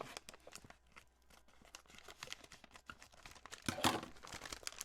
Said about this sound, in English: So now I'm just gonna cut it open right there.